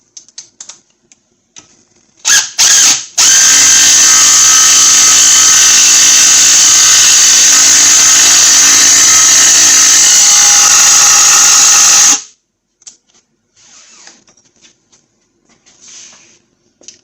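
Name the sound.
bolt being broken with a 10mm socket and ratchet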